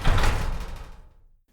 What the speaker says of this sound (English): Windows shut.